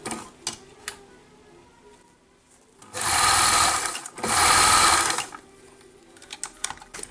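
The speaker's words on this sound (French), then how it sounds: "On va commencer par coudre à 1 cm, donc endroit contre endroit, un poil de point arrière." A sewing machine stitches a kimono jacket seam in two loud, steady whirring bursts near the middle, with clicks and fabric handling before and after.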